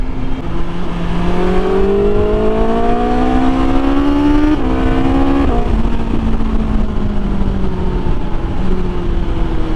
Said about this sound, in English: As you can probably hear, the Pro Race is back on.